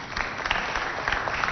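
Short burst of applause from an audience at a competition show between a children's centre and a holiday camp, dense and steady throughout with no voices on top.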